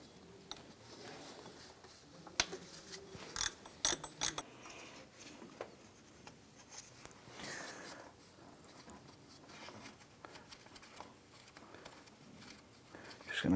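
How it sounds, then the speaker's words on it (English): A ratchet spinning a bolt out of a power steering pump on a 2004-2008 Acura TL, faint irregular clicks and metallic ticks with a few sharper clanks. "Just going to go ahead and spin this bolt out."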